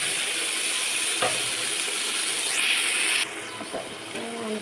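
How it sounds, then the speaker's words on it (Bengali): Whole spices (cinnamon, two bay leaves and three cardamom pods) fry in hot oil with a spice paste in a pan, for a prawn curry in coconut milk. A steady close sizzle and hiss runs throughout, with occasional scraping clicks from stirring. "তো এটাকে ভালো করে আমি হচ্ছে নেড়ে দিচ্ছি।"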